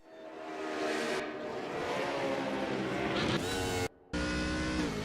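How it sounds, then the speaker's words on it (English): Race car at Laguna Seca loses control, clips the inside curb hard and spins out onto the sand, its engine roaring loud and steady with a sharp rising scrape near the end and a brief dropout. "Hits the inside curb a little bit hard, gets spun out onto the sand, can't find purchase."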